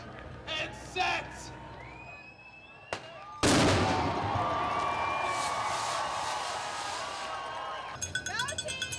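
A howitzer fires a single sudden loud boom to start the Marine Corps Marathon, and a large outdoor crowd of runners cheers and whoops right after. Voices come before the shot.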